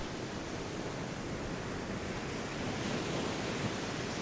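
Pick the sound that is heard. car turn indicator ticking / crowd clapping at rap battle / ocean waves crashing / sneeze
ocean waves crashing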